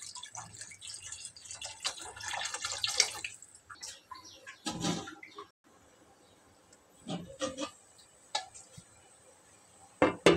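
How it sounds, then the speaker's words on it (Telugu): Water poured into a paneer curry gravy in a cooking pan, with short bursts of splashing and pouring interrupted by quieter gaps, heard close and alone. "ఇలా ఆయిల్ కొద్దిగా పైకి తేలిన తర్వాత వాటర్ పోసుకోండి."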